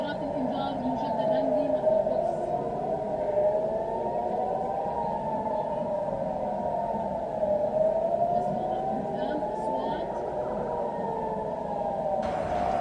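Rocket alert sirens wail in a slow rising and falling cycle, distant and steady across the whole stretch, with a voice talking over them.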